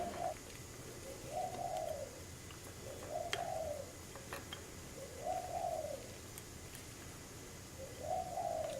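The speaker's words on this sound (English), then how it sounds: "That's the sound of a dove." A dove coos outdoors in a slow, repeating pattern of soft, rounded calls about every two seconds, moderately distant over a quiet background hiss with a few faint clicks.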